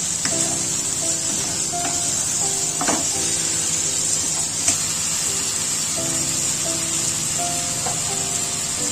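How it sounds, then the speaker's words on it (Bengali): Spices, potato and banana flower fry in a pan with a steady, close hiss of sizzling. Occasional faint clicks of stirring run under it throughout. "এখন এইভাবে করে আমি মশলা এবং আলু মোচা কষাতে থাকবো।"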